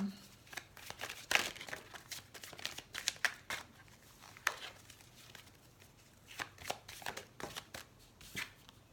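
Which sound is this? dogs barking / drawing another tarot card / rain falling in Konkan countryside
drawing another tarot card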